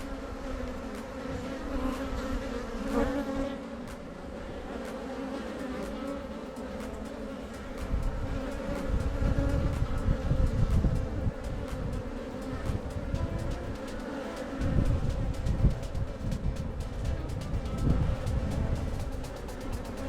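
A dense, continuous hum of many honeybees buzzing close by inside a hive as a bee emerges from its cell, swelling louder in the second half, with faint crackling movement throughout.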